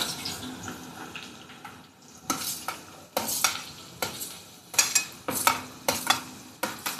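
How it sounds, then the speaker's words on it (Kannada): Onions frying in a pan with chillies, a soft sizzle underneath repeated scraping stirring strokes that come in uneven bursts close to the microphone, with no voices. "ಈಗ ಆನಿಯನ್ ಫ್ರೈ ಮಾಡಬೇಕು."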